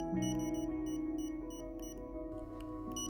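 Beeper of an Endo-Pace endodontic motor gives short electronic beeps in small clusters over a steady tonal hum, close and fairly quiet.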